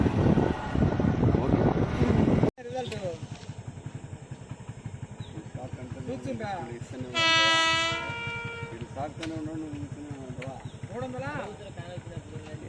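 A train rumbles past a railway level crossing in Cumbum, Andhra Pradesh, with clattering wheels, and a long horn blast sounds partway through. A voice talks over the noise.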